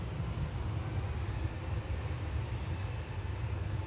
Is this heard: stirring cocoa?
no